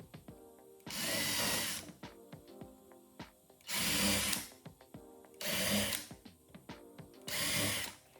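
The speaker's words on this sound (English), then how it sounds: "drill some pilot holes for each of them" A power drill whirs in four short bursts while drilling pilot holes, each about a second long, with quieter clicks and handling noises between them.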